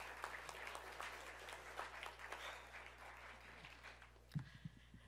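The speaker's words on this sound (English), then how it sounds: "Can you please give them a round of applause and appreciation for their efforts?" A round of applause from an audience at a university scholars lecture evening, moderately dense clapping that thins out and fades near the end, with a few stray sounds at the close.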